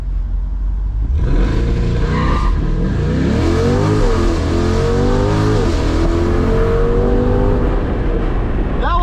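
A C8 Corvette on Nitto NT05 tires launching hard under launch control: a loud, close engine roar climbs steeply through the gears in rising sweeps, running continuously for several seconds without speech.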